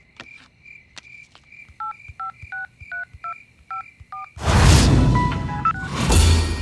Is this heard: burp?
no